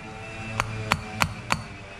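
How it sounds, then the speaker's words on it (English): A hammer taps a new bearing into the front wheel of a GoGo mobility scooter: four sharp, evenly spaced metallic knocks, close and fairly light, with quiet gaps between them. "And just knock it in with my hammer."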